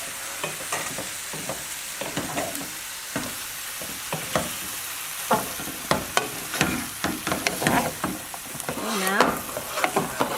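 Tofu and bean sprouts are stirred in a frying pan over a constant sizzle, with repeated scrapes and clacks of the utensil against the pan in an uneven rhythm.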